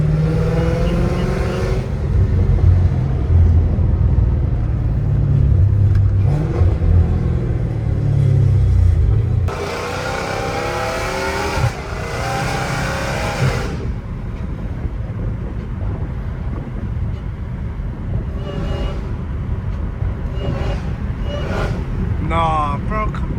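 A 797 hp Hellcat Redeye engine rumbles low and loud, with quick revving and downshift bursts in the middle and end amid wind noise; a voice talks over part of it.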